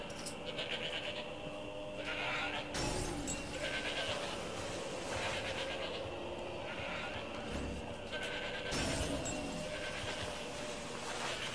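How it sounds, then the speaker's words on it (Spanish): Goat bleating in the video game Shadows of the Damned, several wavering bleats mixed into a dense bed of in-game ambience and effects at moderate loudness. "Esto es una cabra loca por ahí, que no sé dónde está la cabra."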